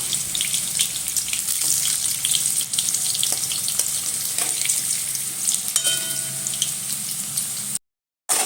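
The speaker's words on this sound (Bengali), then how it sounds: "আমি উল্টিয়ে উল্টো দিকটা আবার ভালো করে ভেজে নেব" Potatoes sizzle and crackle steadily in hot oil, a continuous close-up frying hiss with occasional light clinks, then it cuts off abruptly.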